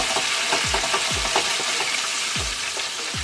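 Plantain frying in a modest amount of oil in a fryer, a steady close hiss and crackle of sizzling with occasional louder pops, no voices.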